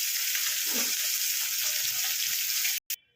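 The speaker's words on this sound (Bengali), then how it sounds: "দুটো করে মাছ ভেজে নিয়ে আমি ফিরছি" Fish frying in oil in a pan, two pieces at a time, a steady dense sizzle close by, ending in an abrupt cut.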